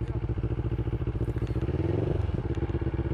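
A CFMOTO 650NK motorcycle engine idles with a close, rapid, even thumping beat, then bogs and stutters as the clutch is let out in first gear, the pulses briefly wavering before settling.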